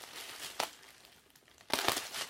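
Packing tape is pulled off a package during an unboxing, giving two brief crinkling rips, the second longer and louder, with a quieter rustle in between.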